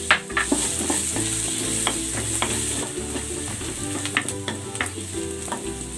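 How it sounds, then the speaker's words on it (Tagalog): Garlic and onion sautéing in cooking oil in a pan, a steady sizzle broken by repeated clicks and scrapes of stirring, close and fairly loud with no talking. "Igigisa ko na tong bawang. Ilalagay ko na rin tong sibuyas."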